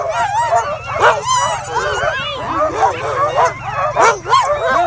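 Eight big furry sled dogs wait on the line at the start of the Percy DeWolfe Memorial Mail Race on the Top of the World Highway, yipping, whimpering and barking excitedly in a loud, continuous chorus close by.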